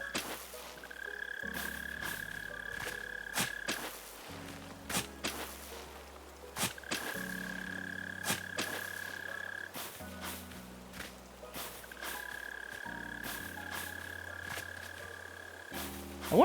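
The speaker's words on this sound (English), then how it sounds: "Okay, that's 2 mole crickets." Mole crickets in Animal Crossing: New Horizons give a repeating low croaking trill in steady cycles over a quiet background game soundtrack.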